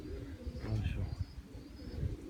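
Pigeons coo softly and close by in a short burst of low throaty calls, with gusting wind noise underneath.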